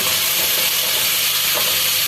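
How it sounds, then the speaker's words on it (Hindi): Spice masala with ginger-garlic paste and tomato frying in a pan gives a loud, dense, continuous hiss, brief and close. "देखिए व्यूअर्स, मसाला भुन रहा है हमारा।"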